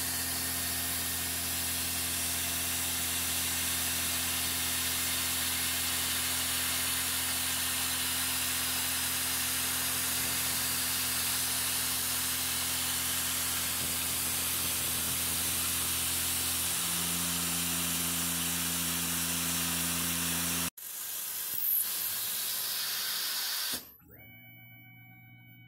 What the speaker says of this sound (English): Here I'm using a 1/4-inch Lakeshore Carbide end mill, which makes really quick work of eating this aluminum.